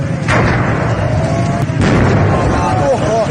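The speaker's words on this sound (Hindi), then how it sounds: "वर्कशॉप में आग लगने के बाद रुक रुक कर धमाके हो रहे थे।" Gas cylinder explosions hit an LPG workshop fire in Shiraz: a heavy, unbroken roar carries a couple of sudden loud bangs, with voices crying out underneath.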